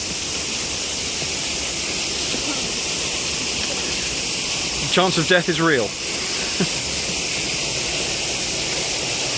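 Steady, broad hiss of the Buried Village waterfall rushes continuously nearby on an overcast day, while someone speaks briefly over it partway through.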